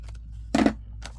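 Scissors trimming uneven paper for a junk journal, one close, crisp cutting burst lasting about a fifth of a second, then a fainter second snip after a short quiet pause.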